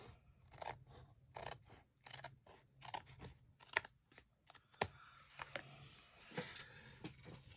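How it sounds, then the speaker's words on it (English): Scissors snip along the edge of a handmade greeting card in a quick series of close, crisp cuts with small pauses between them. "I'm going to go ahead and trim this edge with my scissor"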